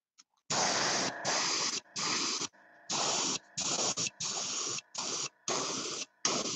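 An airbrush sprays paint in a rapid series of about eight sharp hissing bursts, sputtering and cutting out between each as water gets into the line; close and loud, with no talking.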